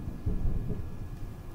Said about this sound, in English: That's thunder.